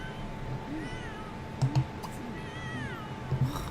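A cat meows plaintively several times at a moderate distance, with soft clicks and a faint electronic tone running underneath.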